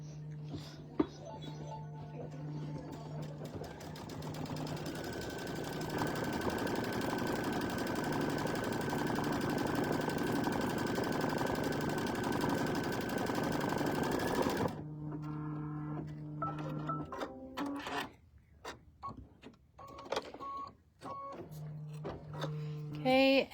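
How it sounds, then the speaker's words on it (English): An embroidery machine stitches a mug rug design with a steady, close mechanical whir and rapid needle hum, then shifts to shorter, choppier bursts of stitching with pauses. "So now we're just going to go through a bunch of stitching"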